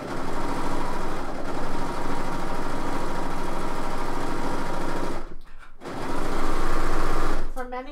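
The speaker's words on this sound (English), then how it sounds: "I'm on a different serger today than what we've been." A serger sewing machine runs steadily, stitching fabric with a dense, rapid mechanical whir that briefly drops out near the end before resuming loudly.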